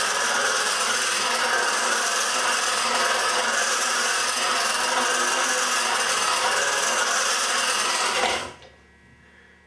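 A chisel edge ground on a sharpening stone: a steady, loud, hissing abrasive rasp held without pause for about eight seconds, then stopping abruptly into near silence.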